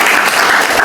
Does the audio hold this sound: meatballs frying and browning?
no